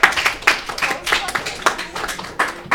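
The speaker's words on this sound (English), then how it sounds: "Applause." Applause and cheering in a classroom for a student named player of the year, a short patter of clapping from a small group under overlapping voices.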